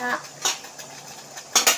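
A spoon clinks against a metal vessel a few times while adding sugar to tea, with sharp scraping taps near the start and a brighter double clink at the end.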